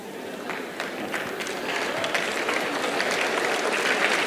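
Applause from a university audience at a live talk in Delhi, starting sparse and swelling steadily into a fuller, continuous crowd clapping over four seconds, with no clear talk.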